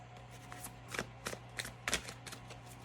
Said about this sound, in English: I was gonna shuffle and stop it for the bottom of the deck energy